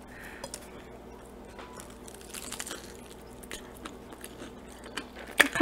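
A TGI Fridays burger being bitten and chewed, with soft wet crunching and crinkling of wrapping. Faint and close, building to a louder bite at the end.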